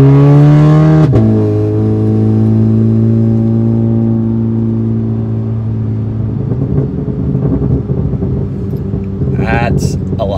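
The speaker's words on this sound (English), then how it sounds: "That's a lot louder backfire." A VW MK6 GLI accelerates hard, the engine note climbing loud and close before a sharp exhaust pop and a settling rumble, with a brief voice near the end.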